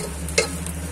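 Pork floss being stir-fried in a nonstick pot, a soft continuous scraping and stirring with one brief sharper clink of the utensil partway through, close and steady with no talk.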